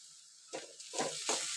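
Turmeric dropped into hot oil while cooking a Kolambi Masala prawn curry sizzles in three short hissing bursts, close and fairly soft, with light stirring between them.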